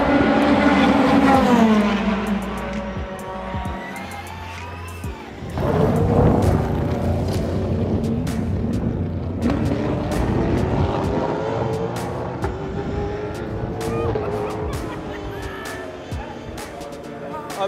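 Toyota and Porsche endurance race cars roar past at the 6 Hours of Portimao, loud engine notes rising and falling as each car sweeps by, heard from the trackside crowd.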